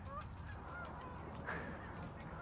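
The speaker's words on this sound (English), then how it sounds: "Got a nice little flock of geese there." Distant geese honk faintly and repeatedly against a soft outdoor hiss, several calls overlapping from a small flock flying over snowy ground.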